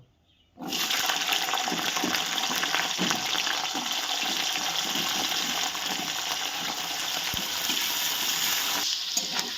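Green beans hit hot oil with a sudden burst of loud, continuous sizzling that keeps up steadily, with faint stirring clinks underneath.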